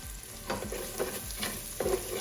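Onion sizzling in a hot pan at medium-low heat, stirred and scraped in about five quick rhythmic strokes over a steady close frying hiss.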